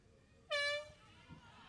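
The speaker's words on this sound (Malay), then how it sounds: "Dengan horn sudah pun dibunyikan." An air horn sounds one short, loud, bright blast at a school rugby match in Selangor, heard somewhat distant over faint crowd ambience.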